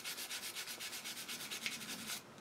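Scraping silicone gunk off a 1971 Honda CB175 engine part makes a fast, steady rhythm of about a dozen short rasping strokes, close and fairly quiet, with no voices, ending abruptly.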